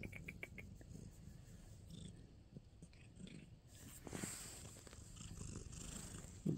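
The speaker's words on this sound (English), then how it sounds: "That purr, though, is pretty loud." Cat purring steadily and fairly loudly, heard close up as a continuous low rumbling throughout, with faint clicks and small mouth noises over it and no talk.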